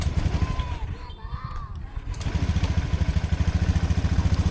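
A cold motorcycle engine fires up after some cranking and quiet clatter, settling into a steady, loud, rapid throb that carries to the end.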